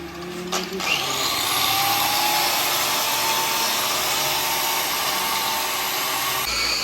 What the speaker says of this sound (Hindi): ऊपर पॉलिश लगाई है और बफ कर रहे हैं भाईजान